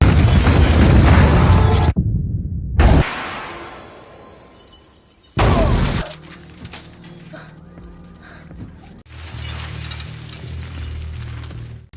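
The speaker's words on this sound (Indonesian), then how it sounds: "Lalu di sini Dickett melemparkan bom yang kemudian" Loud bursts from a bomb explosion scene in the action film Furious 7, with heavy booming blasts cutting in and out among crashing debris and mechanical noise, separated by quieter stretches, with no speech over them.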